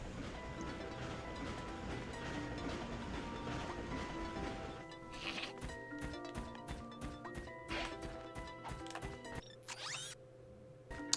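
Train riding in the PlayStation 2 game Ratchet & Clank, where a continuous mechanical rumble gives way to rhythmic clanking impacts and metallic whooshes, busy game sound effects with no talking.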